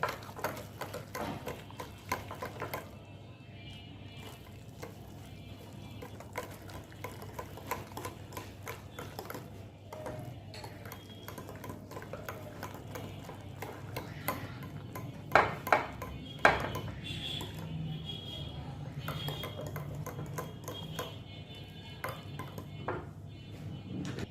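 Thick yogurt, creamy almost like cream, is whisked in a bowl with a steady, close, rapid ticking and clinking of utensil against the bowl, plus a few louder knocks midway, and no one talks.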